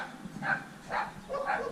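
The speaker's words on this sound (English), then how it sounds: "Sorry about the dogs." Small dogs barking in a series of three yappy bursts at moderate distance, somewhere in Athens, Greece, with no voices over them.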